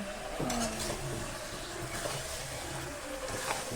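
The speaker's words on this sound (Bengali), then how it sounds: "এবার কষানো হবে।" Meat seasoned with turmeric and salt is sautéed in a pan, a dense close sizzle with a utensil stirring and scraping against the metal.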